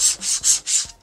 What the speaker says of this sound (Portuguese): você pode lixar superfície